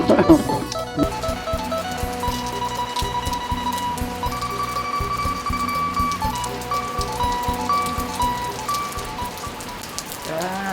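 Steady rain pattering on a surface, dense and continuous throughout, with faint tonal background sounds underneath.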